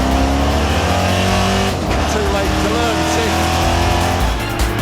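A NASCAR race car on a European track accelerates after a short shift to third, its loud engine droning steadily with an onboard rumble, rising and dipping pitch, while a driver talks over it.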